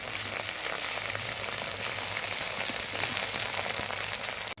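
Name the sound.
onion frying in a pan, ginger-garlic paste added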